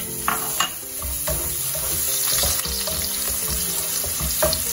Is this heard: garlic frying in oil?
yes